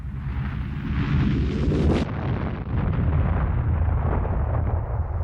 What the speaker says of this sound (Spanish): Una descomunal explosión había sacudido al acorazado, a estribor y a proa.